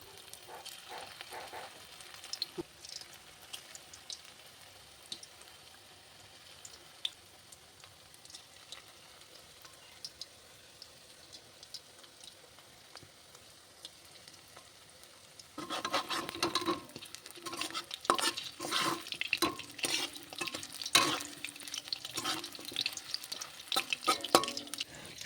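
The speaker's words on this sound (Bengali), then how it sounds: "অল্প অল্প করে একটা একটা করে ভেজে ভেজে নিতে হবে" Chicken pieces frying in oil for restaurant-style chilli chicken, a soft, faint sizzle for a while, then louder crackling and spattering as more pieces go in, steady and continuous with no talk.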